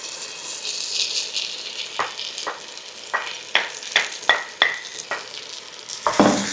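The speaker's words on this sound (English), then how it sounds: "This is the point where we'll add in the lentils." Green lentils tipped into tomatoes sizzling in a pan, a soft steady fry broken by a run of sharp rattling clacks and stirring knocks, close and without speech.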